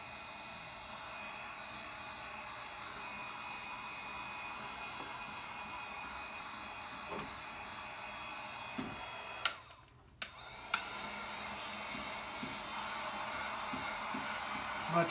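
A hair dryer blows steadily over wet gold paint on an abstract painting, a constant close airy roar broken by a brief cut-out and a couple of bumps near the middle.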